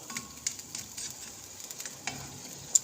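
Curry heating in a pan on the way to a boil, before holy basil goes in, gives off a soft, low sizzle with a few light clicks and taps scattered through it, quiet and close, with no talking.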